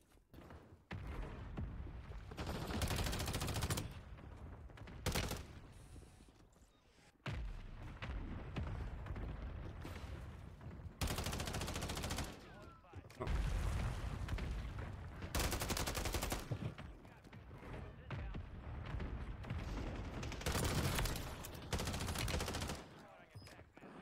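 Bursts of loud automatic gunfire in a shooter video game, several heavy volleys separated by short quieter gaps, with shots and booms packed into each burst.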